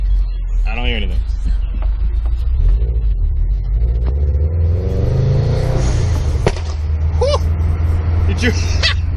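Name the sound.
HKS SQV4 blow-off valve pop while driving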